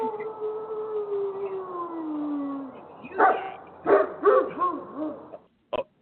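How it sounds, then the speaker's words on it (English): A dog howls in a long sliding note, then lets out several loud barks close by, ending with one short final yelp. "You get a dog bark."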